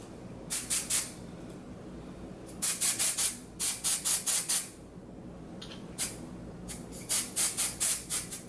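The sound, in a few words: spraying Salon Graphics High Beams temporary hair colour spray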